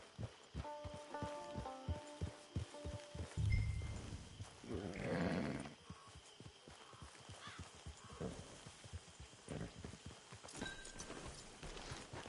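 A horse in the video game Red Dead Redemption 2 trots along with steady hoof clops, joined by a brief louder snort or whinny partway through, against faint ambient game sound.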